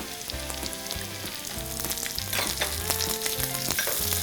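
Chopped garlic and onions sizzle in hot oil in a pan, a steady loud frying hiss with stirring clatter over a rhythmic low background beat.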